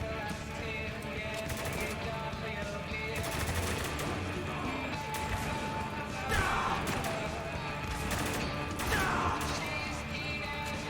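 Repeated shotgun blasts and gunfire in the military shooter video game Spec Ops: The Line, dense and continuous combat noise with a few sharper bangs standing out.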